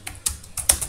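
Numbers are keyed into a computer keyboard while entering a matrix for a Mohr's circle problem in MATLAB, heard as four or five crisp, close key taps in quick succession with no talk.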